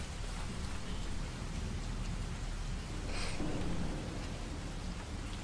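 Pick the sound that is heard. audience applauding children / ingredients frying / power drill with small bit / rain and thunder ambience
rain and thunder ambience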